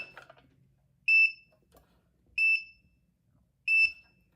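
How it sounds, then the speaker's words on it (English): A portable tumbler heat press gives three loud, evenly spaced electronic beeps, each about a third of a second long, with quiet gaps between them and no other sound. "Okay, why are you beeping at me?"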